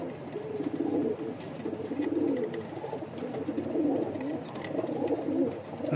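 Rajshahi Giribaz racing pigeons coo steadily in repeated low, throaty phrases, several birds overlapping close by, with faint chirps in the background.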